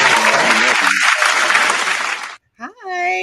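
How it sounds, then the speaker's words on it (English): A burst of studio applause sound effect greets a disco singer arriving as a guest on a show, dense clapping that cuts off abruptly, followed by a short musical stinger. "Gotta bring you in some applause."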